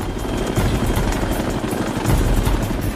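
Rescue helicopter hovering over a cruise ship during a patient hoist, a loud, steady rotor thrum with rapid blade chop, close and continuous.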